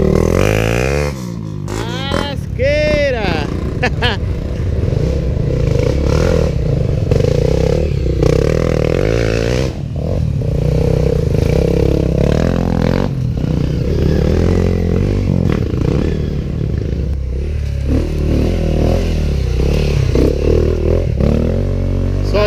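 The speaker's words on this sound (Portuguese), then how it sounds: "Vai ver um monte de moto uma vez agora" A group of two-stroke dirt bikes rides a trail in Kaloré, Paraná, engines revving and rising in pitch as they pass close by, loud and continuous with clattering and scraping from the rough ground.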